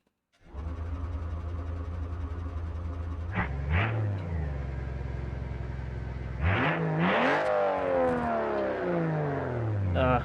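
A Nissan Patrol engine in BeamNG Drive cranks and settles into a steady idle, then revs up in two sharp bursts, the second longer with rising and falling pitch, loud and close with no talk.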